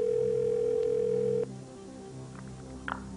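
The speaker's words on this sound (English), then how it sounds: "Okay, we're going to get Micah on the line." A telephone dial tone drones steadily and clearly for about a second and a half during a phone-a-friend call on the game show Who Wants to Be a Millionaire, then cuts off into quiet line hiss with a faint click.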